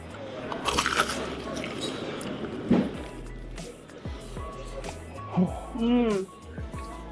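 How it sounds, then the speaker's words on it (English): Crispy fried chicken is bitten into and chewed up close, with a couple of sharp crunches standing out over steady background noise and some voices. "That was the most satisfying crunch I've ever had."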